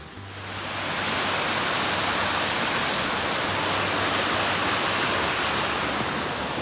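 A waterfall in the Cohutta Mountains of North Georgia roars as a dense, constant wash of falling water, close and loud, swelling in within the first second and then holding steady throughout.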